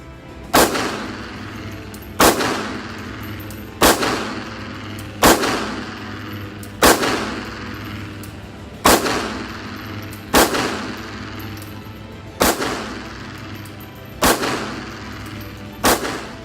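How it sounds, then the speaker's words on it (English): Ten evenly spaced shots from a Gen 5 Glock pistol, each a sharp loud report roughly every one and a half seconds, with brief ringing decay between them. "let's go and shoot this thing and let's see what we think."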